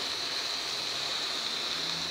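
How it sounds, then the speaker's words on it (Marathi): Water is poured steadily into a cooking pot of black-eyed pea and potato curry (chavali batata bhaji), giving a continuous, even rushing splash with no talk. "चवीनुसार आपल्या आवडीप्रमाणे पाणी घालायचं"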